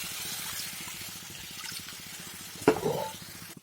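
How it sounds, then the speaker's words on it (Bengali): Water goes into frying fish masala in a pan with a sudden splash and a hiss that fades over about a second. Before it, a steady low sizzle with faint rhythmic ticking plays close by, and no one speaks. "এখন দিয়ে দেব কিছু জল"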